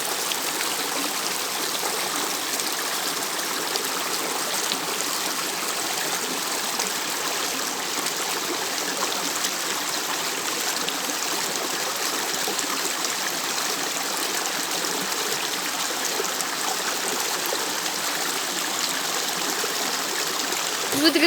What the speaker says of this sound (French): là on est en plein milieu de la rivière